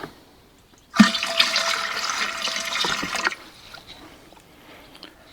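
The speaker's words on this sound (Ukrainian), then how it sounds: "І ще залию водою." Water gushes into an autoclave over jars of fish outdoors after a moment of quiet, pouring steadily for about two seconds before cutting off, leaving faint drips and quiet.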